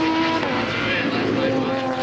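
Vintage race cars at Circuit of the Americas roar past on the track during an SVRA helmet race, a continuous loud engine drone with shifting pitch, and a commentator talking over it.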